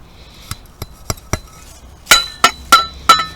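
Eight sharp taps of a metal probe striking buried antique glass bottles in soil; the first four are duller ticks and the last four ring out as bright glassy clinks, at an irregular pace with no talk.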